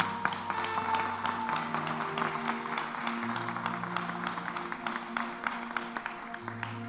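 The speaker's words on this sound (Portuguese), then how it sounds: "Você pode aplaudir o Senhor por isso?" Church congregation applauding during a Sunday worship service, a soft, steady patter of many hands under sustained music, fairly distant and low in level.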